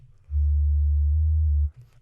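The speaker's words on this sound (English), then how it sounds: "it's more of a sort of low mid-range kind of sine wave area" Steady sine wave bass tone from the Vital synthesizer, an octave above sub bass in the low mids, held alone for about a second and a half with a smooth onset and release.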